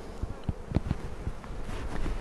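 Honey bees buzz over naturally drawn comb hung from a comb guide in a hive, a dense continuous hum close by with brief louder passes of individual bees.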